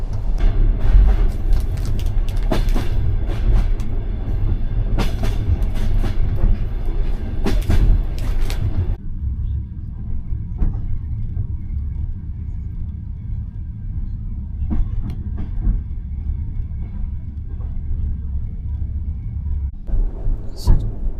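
A Soviet-era night train running from Chișinău to Bucharest, with steady low rumble and rattling carriage noise, occasional sharp clacks and knocks, the loudness easing partway through as the ride continues.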